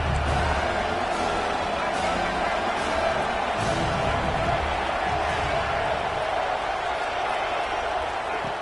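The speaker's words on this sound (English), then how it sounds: "And the crowd coming to life here, trying to help this defense down in the red zone." A football stadium crowd roars in steady, dense noise during a defensive stand in the red zone, sustained throughout with brief louder swells near the start.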